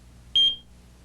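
AT&T 9000 home security system giving a single short, high electronic trouble beep, clear and close against a quiet room, no voices.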